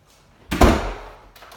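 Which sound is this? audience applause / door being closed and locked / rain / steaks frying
door being closed and locked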